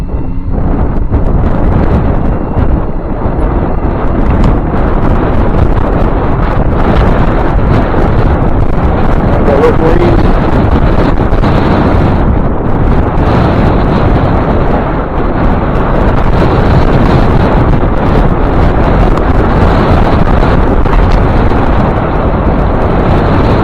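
Steady, loud wind roar buffets the microphone while riding a bike along a bike path into a headwind, a dense rumbling rush that never lets up, with no voices.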